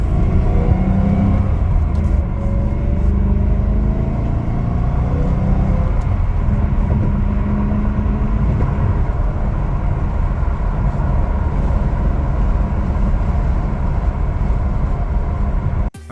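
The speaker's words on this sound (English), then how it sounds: "So now I'm just gonna slap on the wheels and then go for a test drive." A BMW E92 M3 with fresh rod bearings and engine mounts out on a test drive: loud, constant road and engine drone from inside the car, steady throughout with no speech.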